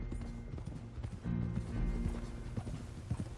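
Horse hooves clip-clop in Red Dead Redemption 2, a steady rhythmic trot of hoofbeats with creaking tack and a low rumble beneath, fairly quiet and with no talk over it.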